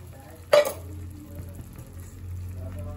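Masala frying in a kadai bursts into a loud sizzle as water is poured in, a sharp hiss that settles into a steady low bubbling simmer.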